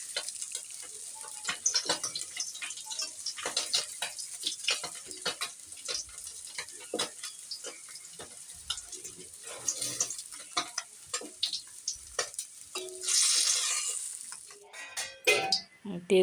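Fish sizzles loudly in hot oil in a kadai while being stirred and turned, with frequent scraping and clicking strokes from the utensil throughout and a brief louder burst of frying near the end.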